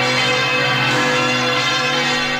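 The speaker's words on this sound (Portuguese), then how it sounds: "Vamos ouvir os sinos da maior basílica do mundo." Church bells of the Basilica of Aparecida ring out loud and sustained, their overlapping tones sounding as one continuous, resonant peal.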